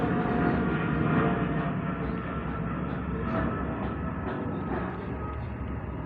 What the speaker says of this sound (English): Plane going over